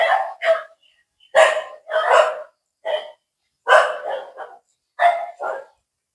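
Near a temple shrine on Khao Yai Kata hill, a dog barks loudly and close, roughly eight sharp barks in uneven pairs and singles, with short silences between.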